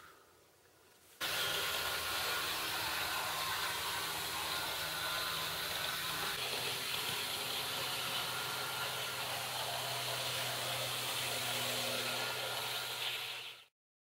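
Continuous even mechanical whir of a Bachmann Class 47 model locomotive, its centrally mounted motor driving both bogies, crawling at slowest speed on a Hornby Select controller, starting abruptly and running smoothly before cutting off.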